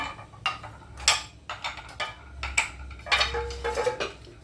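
Clay dinner plates being handled, with a series of sharp clinks, knocks and scrapes in irregular bursts, close and fairly quiet with no talking.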